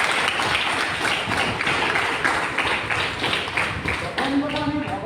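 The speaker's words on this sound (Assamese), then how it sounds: "একাজনী জোৰদাৰ হাত চাপৰি দিবৰ কাৰণে কামনা কৰিছোঁ" An audience claps for examinees and organisers at a gathering, with dense, sustained applause filling the space and a voice rising near the end.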